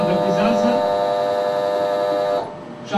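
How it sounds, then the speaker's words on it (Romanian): An installation being switched on gives a steady, harmonic buzzing alarm tone for about two and a half seconds, then cuts off. A brief burst of noise follows near the end. "O să vedeți, este un semnal de alarmă, orice instalație care se pune în funcțiune emite un semnal, avertizează."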